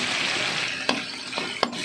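Ground pork and shrimp sizzling in a pan as a bottle gourd (upo) sauté begins, with steady broadband frying hiss and a few sharp stirring clatters.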